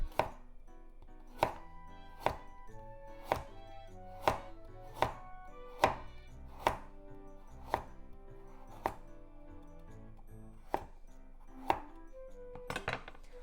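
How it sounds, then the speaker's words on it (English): A knife cuts a vegetable into thin diagonal slices and strips for spicy pork and vegetable miso soup: sharp, close chops against a cutting board at a steady, unhurried rhythm, about one per second, with no talking. "I'm making it into very thin strips. So into thin diagonal slices first."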